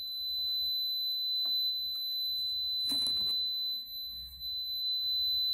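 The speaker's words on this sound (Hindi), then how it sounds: "हमारा बजर भी ऑन हो चुका है दोस्तों" A satellite finder's buzzer sounds as a steady high electronic tone with a brief louder burst, playing alone without speech.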